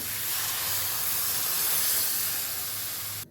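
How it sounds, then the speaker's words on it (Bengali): Water poured into spice masala frying in a pan for Bengali paneer curry gives a loud, steady sizzling hiss that holds close and continuous, then cuts off abruptly near the end. "এবার জল দিয়ে দেব"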